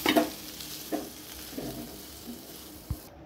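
Chicken and vegetables fry in a pan, a steady sizzle broken by a few clattering stirs at close range, with no voices.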